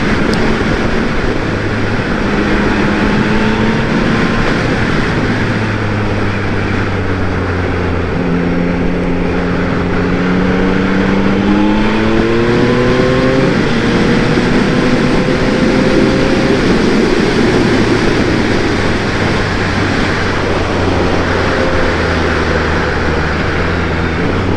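Yamaha MT-09 SP motorcycle engine on the move, a steady loud drone with shifting tonal lines as revs fall and rise under engine braking, mixed with constant wind rush and no talking.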